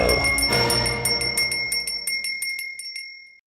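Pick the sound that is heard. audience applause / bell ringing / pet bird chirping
bell ringing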